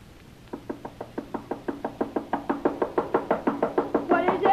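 Knuckles rap on a door in a fast, insistent run of about twenty evenly spaced knocks, growing louder and closer toward the end, as part of an old radio drama.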